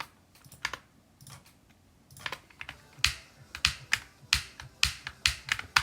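Sharp mouse or key clicks from a player tackling the Sonic Wave level, a few sparse taps at first, then a steady run of loud, evenly spaced clicks near the microphone.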